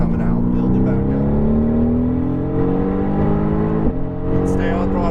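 A Mercedes AMG GTR engine drones loudly on a race track, holding a steady high-revving tone that eases slightly as throttle rolls back, with a brief shift blip near the end, heard from inside the car.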